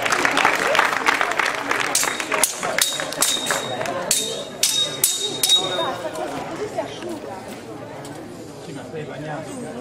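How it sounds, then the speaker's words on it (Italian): Crowd applause of encouragement at a medieval festival before a longsword duel, clapping mixed with chatter and a few metallic clangs and rings, tapering off as voices continue underneath. "Un applauso di incoraggiamento."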